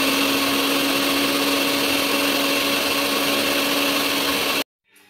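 A blender runs steadily at high speed, blending a Jamaican-style carrot punch, with a loud, constant motor whir that stops abruptly near the end, leaving near silence.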